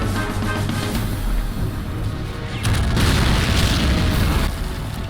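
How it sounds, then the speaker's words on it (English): Airstrike explosions boom one after another in the Men of War strategy game, a continuous loud rumbling barrage with heavy low-end blasts that swell midway and stay dense throughout. "let's call for one more airstrike"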